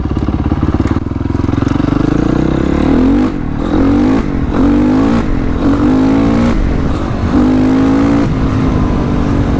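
A Honda CRF450 dirt bike engine roars loudly up close, revving hard and climbing in pitch through several gear shifts up to fourth without letting up.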